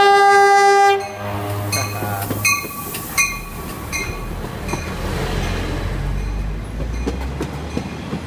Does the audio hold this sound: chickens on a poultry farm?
no